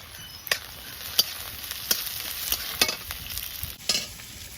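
Chopped onion and black cumin fry in hot oil with a constant sizzle, punctuated by regular scraping strokes of a spatula stirring the pan, close and loud without any talk.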